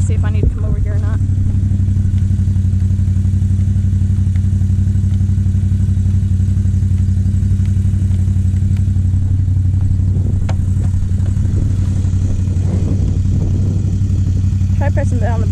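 Polaris off-road vehicle engine running at a steady, loud, close idle with a low rumble throughout, some clatter and a person speaking over it.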